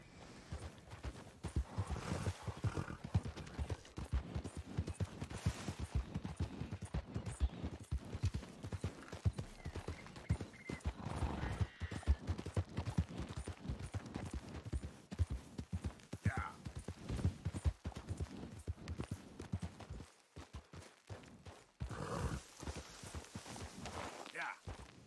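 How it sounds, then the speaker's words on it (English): Horses in the Red Dead Redemption 2 video game clip-clop steadily on hooves throughout, with brief neigh-like calls, beneath frequent nearby talking and game ambience. "Those are horses, good lord."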